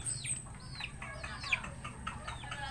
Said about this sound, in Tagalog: Ito yung mga pasaway na manok.